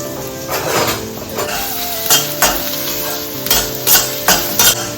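Green chillies and curry leaves fry in oil, a steady sizzle punctuated by several sharp metallic scrapes and clinks of a spoon against the pan as they are stirred.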